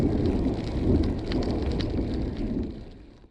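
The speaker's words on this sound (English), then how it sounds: "Bit more rain and thunder than I'd like." Rain and rumbling thunder during a gravel bike ride, a loud, dense low roar with a steady hiss of rain that fades slightly toward the end.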